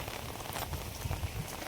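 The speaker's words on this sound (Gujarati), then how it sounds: "હજી વરસાદ ચાલુ છે." Steady rain falls outdoors, a dense, close patter of drops on surfaces that continues evenly throughout with no voices.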